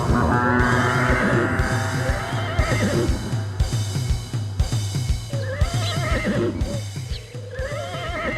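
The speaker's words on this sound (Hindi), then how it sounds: "गोवर्धन ने घोड़े के सिर पर अपना हाथ फेर दिया" A cartoon horse neighs loudly in a Hindi moral story about a wrestler taming an unruly horse, with a long whinny over a steady music bed and rhythmic clip-clop beats.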